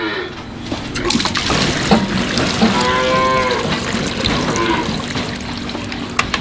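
Calves mooing at feeding time on a farm, several drawn-out bellows rising over a steady background of pump noise and splashing liquid, fairly close.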